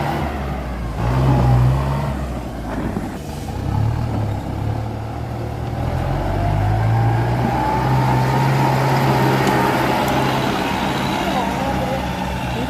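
A used tractor engine runs while being driven, a low, steady rumble that swells and holds under intermittent talking.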